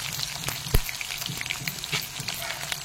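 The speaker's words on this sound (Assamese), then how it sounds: "এইফালে পিঁয়াজখিনি ধুনীয়াকৈ দি লৈছোঁ। এইখিনি অকণমান টাইম ভাজি ল'ম।" Onions sizzle and crackle as they fry in a pan for an Assamese home-cooked curry, a steady close hiss with scattered pops and no voices.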